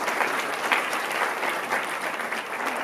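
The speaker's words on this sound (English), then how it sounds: "could we just have a round of applause" Audience applause at a business summit panel in a conference hall, a steady, even wash of many hands clapping, moderately loud and sustained throughout without voices over it.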